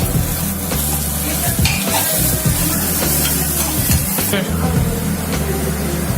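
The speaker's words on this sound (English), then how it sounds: "You have to add ginger garlic paste and fry it for 2 minutes." Ginger garlic paste frying in a pan of oil for an egg puff filling, a loud steady sizzle with stirring scrapes, with a low hum underneath throughout.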